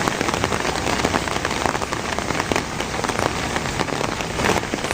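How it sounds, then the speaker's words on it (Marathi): Heavy monsoon rain pours steadily, a loud, close, continuous patter drumming on surfaces with no pauses. "सकाळपासून धो पाऊस पडतोय."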